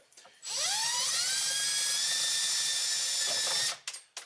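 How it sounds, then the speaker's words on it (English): A high-pitched power drill with a 1/8 inch bit spins up quickly, holds a steady piercing tone for about three seconds, then cuts off, close and loud. "I'm using the 1/8 inch drill bit"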